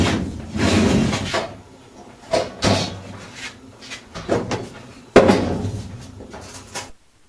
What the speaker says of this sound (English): grab the cabinet, put your foot on the bottom and tilt it forward,